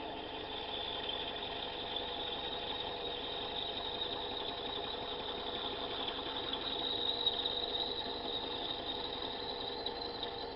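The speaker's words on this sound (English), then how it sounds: "The end mill is acting like a reamer." A four-flute end mill boring a guide bar hole in a workpiece held in a four-jaw chuck, giving a steady, even whirring machining hum with a faint high whine, unbroken and moderately quiet.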